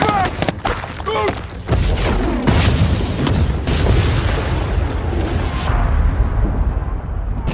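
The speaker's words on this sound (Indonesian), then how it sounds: "Berhasil meledakkan wilayah pertahanan terdepan kelompok Taliban di desa Basecamp" Heavy explosion from a war-film battle scene as Taliban forward defenses in an Afghan village are blown apart: a loud sustained boom and rumbling blast debris roll on for several seconds after brief shouting at the start.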